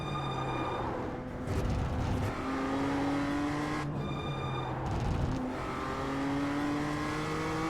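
Toyota GR86 race car in the iRacing sim, its engine droning loud and steady with rising and falling pitch as it revs up through the gears, lifting off briefly between pulls, no talking over it.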